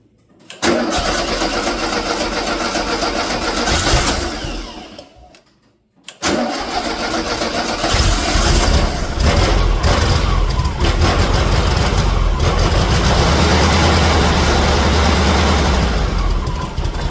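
A Volkswagen engine fitted with an EMPI Pict 3 carburetor with a sticking choke cranks, catches and runs at a loud, steady idle close by, briefly cutting out once before restarting and settling into a rough, even rumble.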